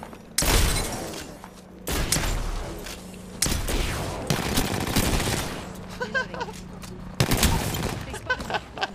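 Gunfire in the battle-royale shooter Apex Legends: repeated loud bursts of automatic weapon fire and sharp shots, separated by brief lulls, with a player talking over the shooting.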